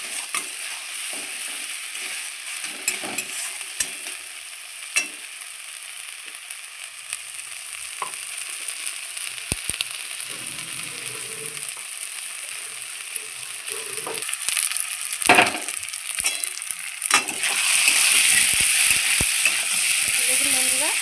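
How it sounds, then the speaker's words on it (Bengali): Ground spice paste fries with gobindobhog rice in a pan for a banana-flower ghonto, a continuous sizzle with scraping stirs and clinks that grows louder and more intense toward the end. "দেখুন বন্ধুরা চালটা দিয়ে কত সুন্দর করে আমি ভেজে নিচ্ছি।"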